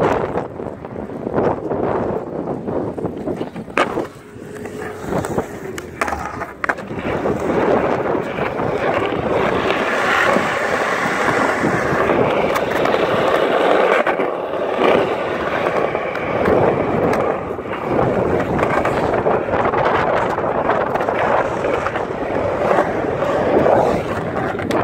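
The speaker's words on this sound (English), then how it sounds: "The wind is super crazy, so it's really hard to skate today" Strong gusty wind at the outdoor Rio Bravo Skate Park in Albuquerque, New Mexico, roaring loudly and continuously against the microphone with a few sharp knocks early on.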